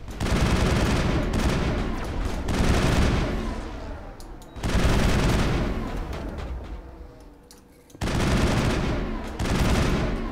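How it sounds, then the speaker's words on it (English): Heavy weapon fire in Mass Effect combat, loud and close, arrives as several long booming bursts that each decay slowly into a rumbling tail before the next one hits. "Oh, that's a sniper."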